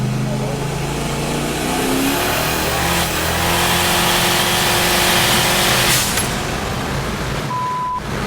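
A tuned car's engine revs up in third gear, its rising drone climbing steadily for several seconds and then dropping off. The sound is close, loud and continuous, with a faint tonal beep near the end.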